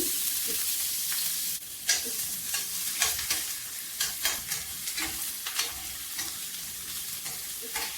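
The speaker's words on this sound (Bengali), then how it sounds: "পেঁয়াজ কিছুক্ষণ ভেজে নেব" Chopped onions frying in oil for bhuna khichuri crackle and hiss close by, with a steady sizzle broken by repeated scraping stir strokes of a spatula against the pan.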